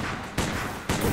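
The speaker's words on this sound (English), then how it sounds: "gunshots" Gunfire in a Shin Megami Tensei video game, played on hard mode: two loud, sharp shots about half a second apart over a steady background bed, with no talking.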